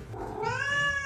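A cat gives one drawn-out, rising meow, close and clear over faint room noise.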